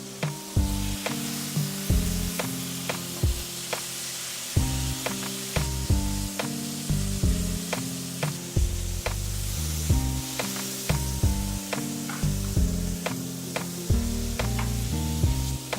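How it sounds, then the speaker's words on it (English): Flank steak for a stuffed flank steak dish sears in a hot pan, giving a steady broadband sizzle that runs throughout beneath prominent rhythmic background music. "You're searing the outside of that."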